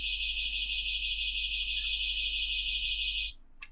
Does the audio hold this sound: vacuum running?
no